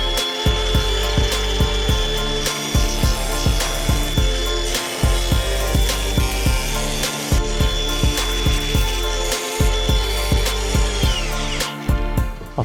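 A diamond cutting disc slicing through a bathroom tile, a loud close grinding whine with a steady high tone, repeatedly interrupted by brief rhythmic drops as the disc bites and clears, with no voices.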